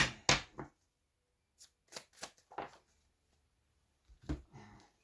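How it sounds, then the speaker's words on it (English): Crisp riffling bursts of tarot cards being shuffled, several short flurries separated by pauses, close and fairly quiet. "let me just shuffle"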